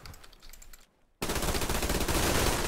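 Rapid automatic gunfire from the shooter game Survarium, a quieter burst of shots, a brief pause, then a sustained loud, dense stream of fire close up.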